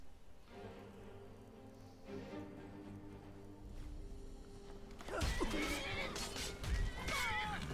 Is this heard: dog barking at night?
no